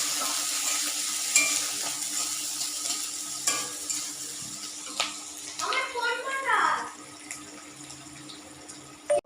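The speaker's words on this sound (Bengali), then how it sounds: "পেঁয়াজটা দিয়ে দিই ভালো করে ভেজে নিচ্ছি পেঁয়াজটা কাঁচা লঙ্কা দু তিনটে দিয়েছি" Onions and two or three green chillies frying in a pan for an egg curry, a steady broadband sizzle with stirring clatter, running continuously at moderate loudness.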